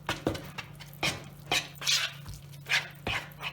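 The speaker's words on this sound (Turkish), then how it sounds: "Tamam yeterince kaşıkla karıştırdım." A spoon stirring carrot and potato poğaça dough in a bowl gives irregular, close scraping and slapping strokes over a low background hum, with no speech.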